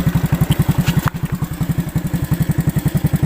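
A motorcycle engine runs with a steady, rapid thumping pulse, loud and close, with a brief clatter partway through and no voices.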